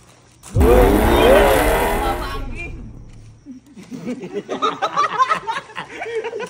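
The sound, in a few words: person imitating a motorcycle engine sound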